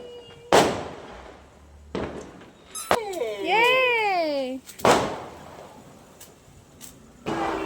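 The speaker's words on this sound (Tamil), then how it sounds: "குட்டி மேடம் வந்து அவங்களே பட்டாசு வெடிக்கிறாங்களாமாங்க." Firecrackers bursting during Diwali, with several sharp, loud cracks spaced apart across the clip and a whistling, rising shell in the middle, fairly close by, with a voice faintly in the background.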